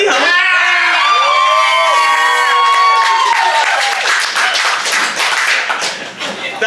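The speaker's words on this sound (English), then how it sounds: "That was the easiest applause I've ever gotten in my entire life." Comedy show audience breaking into loud cheering, whooping and applause, with high shouts at first giving way to sustained crowd clapping that slowly tapers off.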